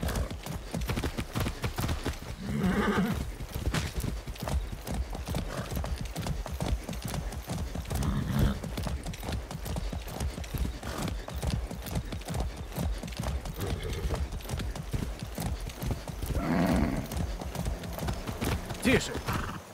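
Horse hooves clip-clop in a steady rhythmic gait in the video game Far Cry 6, with occasional whinnies rising above the trotting, close and continuous.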